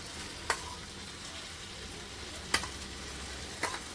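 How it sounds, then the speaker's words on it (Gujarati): Soybeans frying in masala oil give a quiet, steady sizzle, broken by a few sharp clicks of a spoon against the pan. "તો આપણે હવે આની અંદર સોયાબીન નાખી લઈશું."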